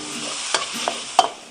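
Noodles and vegetables are stir-fried with oyster sauce over high heat, a constant close sizzle broken by sharp clanks of a spatula against the pan, with no talking.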